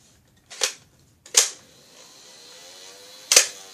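A Nerf RV Barricade 10 toy blaster fires three sharp, loud snapping shots, two close together and one after a pause, with a faint whirring hum between them.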